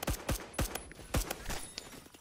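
Pistol fire in the online shooter Phantom Forces: four sharp, loud shots spaced roughly a third to half a second apart, each with a short tail, followed by quieter clicks and handling noise.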